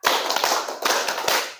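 Students in a classroom clap together in a rhythmic counting game, a loud, close flurry of many hands with several stronger beats falling at regular intervals before the sound fades out.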